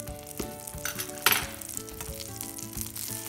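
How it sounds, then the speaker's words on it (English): Butter in a frying pan gives a soft, steady sizzle with light clinks and scraping as it is stirred around, and one sharper tap partway through. "just put a little butter in the pan"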